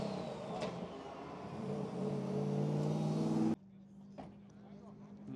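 A semi-pro drift car engine hums steadily at low level with a faint rising tone, then cuts abruptly to a quieter idle, with people talking nearby.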